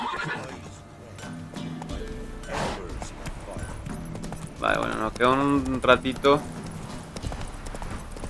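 Horse in The Witcher 3 video game, heard as hoof clip-clop and a loud neigh near the end, with someone speaking over it throughout.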